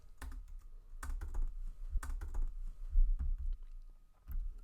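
Computer keyboard typing while entering letters and spaces for a party-decoration design, in short bursts of close, crisp clicks and key taps with brief pauses between them, no voices.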